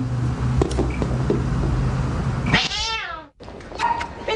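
A cat meows loudly up close, a drawn-out wavering cry, with scuffling and thumps around it and a brief silence before more rustling.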